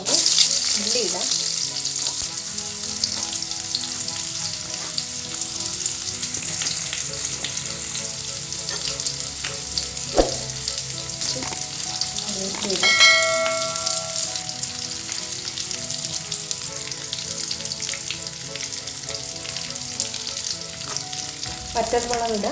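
Onions fry in hot oil with mustard seeds for a Kerala-style ginger curry, producing a loud, continuous close sizzle that holds steady throughout, with faint stirring scrapes and no talking.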